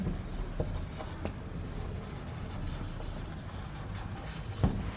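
A pen writes chemistry notes on paper, making quiet, steady scratching strokes with a few light taps and one soft thump near the end. No voices are heard.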